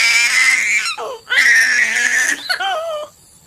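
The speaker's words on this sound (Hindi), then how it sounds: "गुड़िया के रोने की आवाज से कोमल की लाश तड़पने लगती है" A baby girl cries in a horror story, with loud, wailing sobs in two long bursts separated by a short gasp and followed by shorter whimpering cries, close and alone.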